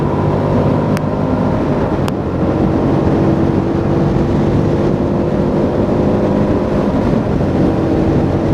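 Hyosung GD250R motorcycle from 2017 climbing a steep uphill in fourth gear, its engine holding a steady loaded drone under constant wind rush with no voices.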